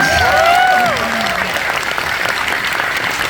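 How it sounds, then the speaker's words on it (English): A convention crowd at Fan Expo Canada 2024 applauds and cheers Helen Hunt, loud sustained clapping with whoops and shouts at the start, settling into steady applause. "Make some noise for Helen, please."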